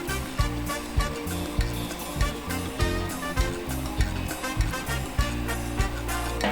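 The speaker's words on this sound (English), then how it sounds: "First, make sure to stir your pork to make sure all the flavors are" Pork is stirred in a hot pan, a rhythmic scrape of the utensil about once every half second over a constant close sizzle.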